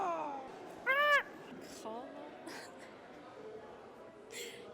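A person imitates a raptor call with a short, loud, shrill rising screech, followed by a few fainter voiced sounds and quiet murmuring.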